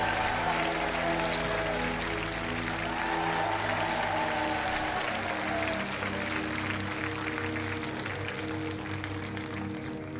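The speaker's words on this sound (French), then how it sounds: "On va vous laisser partir sous les applaudissements." Steady applause from the studio audience of a French television game show, an even wash of clapping with music playing underneath and a few brief cheers.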